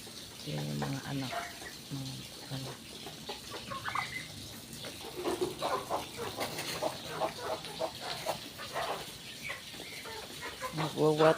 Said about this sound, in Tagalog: Ayun yung inahin. Yan yung mga anak.